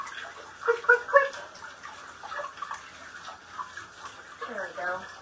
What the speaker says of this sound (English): let me just rinse